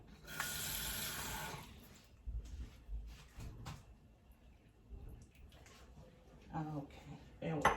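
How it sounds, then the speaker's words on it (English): Water from a kitchen faucet pours into a pan while making liver and onions with gravy, a loud hiss in the first two seconds followed by softer clatter and handling noises, with a brief splash near the end. "I'm gonna put a tad bit more water."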